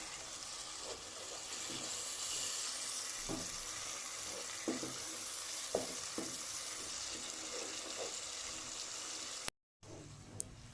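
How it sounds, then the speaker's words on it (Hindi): Masala spices stir-frying in a pan for ojri, a soft continuous sizzle broken by scattered scrapes and taps of a stirring spoon, close and fairly quiet. "अच्छी तरह 5 से 7 मिनट तक मसाले की भुनाई करनी है हमने।"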